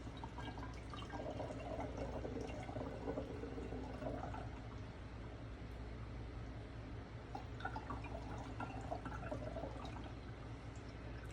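Kombucha drains out of a jar in a faint, steady trickle with soft drips, low and continuous throughout.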